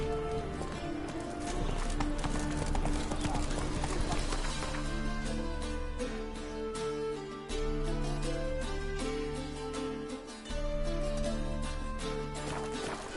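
Roach the horse gallops in The Witcher 3, with rapid rhythmic hoofbeats carrying steadily over game music and ambience for the whole stretch, briefly dipping twice.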